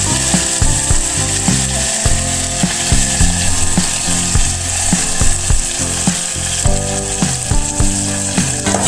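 Red chillies and a pounded green chilli and coriander paste fry in a pan for a homemade tomato rasam, giving a loud continuous sizzle with rhythmic mechanical clicking throughout, close and without talk.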